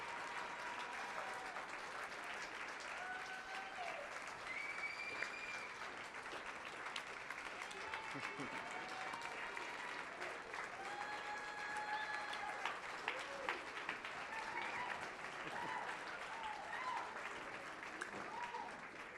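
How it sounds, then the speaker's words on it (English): Sustained audience applause at a medical device demo day as startup companies gather on stage, steady dense clapping throughout with scattered whoops and a voice briefly audible over it. "Come get your round of applause."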